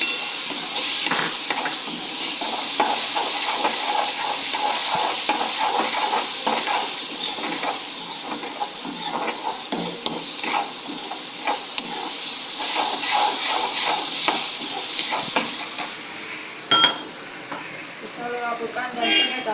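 Chopped onions and tomatoes fry in a pan with a loud, steady sizzle and hiss, broken by occasional stirring and scraping clicks, then quieten toward the end.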